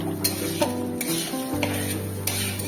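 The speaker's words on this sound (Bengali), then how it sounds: "চালটা আমি এবার ভালো করে একটু ভেজে নেব।" Rice is fried and stirred in a pan for basanti pulao, giving a soft steady sizzle with repeated scraping and clinking strokes of a spoon against the pan, close and alone.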